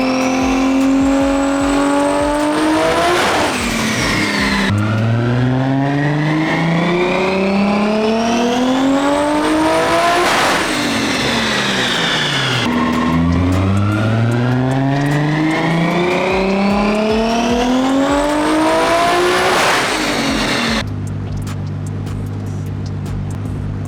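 A Nissan 240SX with a 550 hp RB25 engine strapped to a dyno revs hard through several long rising pulls, each climbing to a screaming peak before dropping back, then settles into a steady idle at the end.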